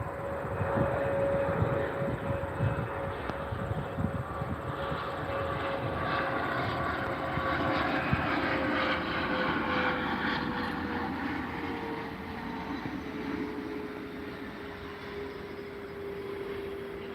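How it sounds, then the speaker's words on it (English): An airplane drones steadily overhead on a clear day, its engine tone sliding slowly lower as it passes, moderately distant with no voices over it. "Right about where that airplane is flying around."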